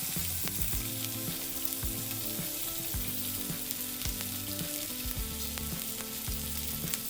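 Rack of lamb searing fat-side down in a hot pan, a steady loud sizzle and crackle of frying fat running throughout with no voices.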